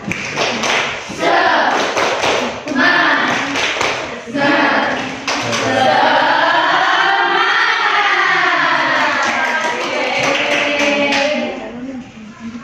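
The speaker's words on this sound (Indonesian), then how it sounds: "Yuk, tepuk semangat." Classroom of fifth-grade pupils performing a rhythmic clapping chant together, steady group claps with voices chanting along, loud and close throughout.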